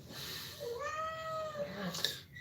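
A cat meows once in a long, rising-and-falling call, close and fairly loud, with a soft low background hum and a brief clatter near the end.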